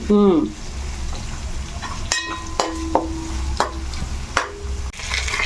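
Onions and green chillies fry in a pan, a close sizzle punctuated by several sharp metallic taps and scrapes of a ladle, with a brief voice at the start.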